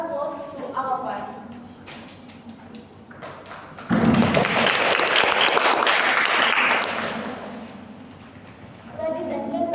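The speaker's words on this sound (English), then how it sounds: "a big round of applause to all of us" Seminar audience breaking into a big round of applause: after a few seconds of a voice speaking, dense clapping swells in at once, holds loud for several seconds, then fades as talking resumes.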